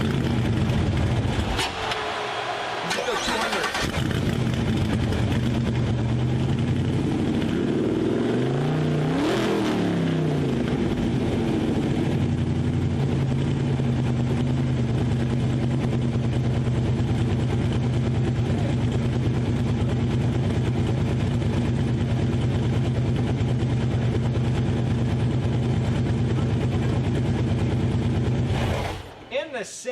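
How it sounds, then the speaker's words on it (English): Simca car engine running loud and steady at a 2021 expo, roaring with a few rev swells near the start and middle before cutting off at the end, with a voice briefly heard over it. "let's hear the Simca"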